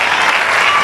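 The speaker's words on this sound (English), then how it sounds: "Even the applause from the Malaysian team seems a bit subdued." Brief burst of steady clapping from the Malaysian men's table tennis team at a SEA Games semi-final against Vietnam, fairly close and even throughout, with no voices over it.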